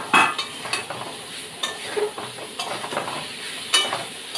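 Ridge gourd pieces fry in a pan for a potato and tengra fish curry, with steady sizzling under repeated scraping stirs of a utensil against the metal.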